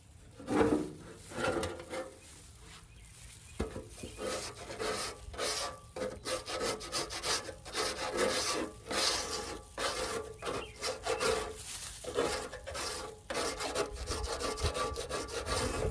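A metal scraper rasps over the cooking surface of a Tahoma 900 grill, loosening stubborn residue in repeated close, gritty strokes that keep up an uneven rhythm throughout, with no talking.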